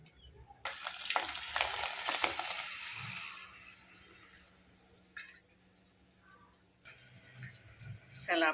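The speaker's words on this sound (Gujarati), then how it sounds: "ચાલો આપણે પાપડી પણ રેડી થઈ ગઈ છે સરસ મજાની તળી" Rice papdi fry in hot oil with a bright sizzle that fades, followed by quieter stirring and scraping, a few clinks and a burst of bubbling near the end.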